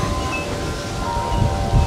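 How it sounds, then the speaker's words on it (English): Steady wind buffets and rumbles across the microphone, with gusts growing stronger toward the end and faint rustling in the background. "It's really windy today."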